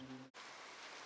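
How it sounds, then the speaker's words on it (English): Rain falling steadily in a video game, a dense even hiss of drops on surfaces after a brief low hum cuts off, faint and continuous. "Come on, it's raining."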